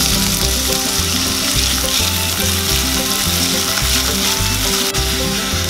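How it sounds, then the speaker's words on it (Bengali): Chopped onion fries in hot oil over low gas alongside raw peanuts, giving a loud, steady sizzle with light stirring clatter throughout. "এবারে কুচিয়ে রাখা পেঁয়াজটা দিয়ে ভেজে নেব"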